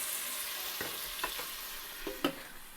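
Vegetable pieces for sambar sizzle in a pot under a constant hiss, with a few soft scraping stirs and one louder clunk near the end, heard up close and with no speech.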